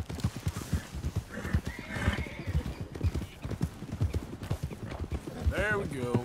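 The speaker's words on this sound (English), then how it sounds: "You have to calm the horse down, don't lasso it." Rapid hoofbeats clatter in a steady rhythm in the video game Red Dead Redemption 2, ending in a loud, shrill horse whinny near the end.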